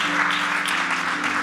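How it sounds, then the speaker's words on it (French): Applause from a church congregation honoring a ministry team, a steady, dense wash of many hands clapping together without a break, fairly loud and close, with no talking over it. "une bonne main d'applaudissement à l'équipe qui sont allés"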